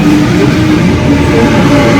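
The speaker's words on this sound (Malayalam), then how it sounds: "ഇന്ന് നമ്മൾ ട്രെയിൻ കയറിയിരിക്കുന്നത് മേരിലാൻഡ്സിൽ നിന്നും സെൻട്രലിലേക്കാണ് കേട്ടോ" Interior rumble of a Sydney suburban train running from Merrylands toward Central station, a steady, loud low drone with rolling mechanical noise throughout and no talk.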